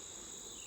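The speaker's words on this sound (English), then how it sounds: "There's the yellow jacket buzzing around." A yellow jacket wasp buzzes near a beehive in autumn, a thin continuous high drone that stays steady and fairly faint outdoors with no voices.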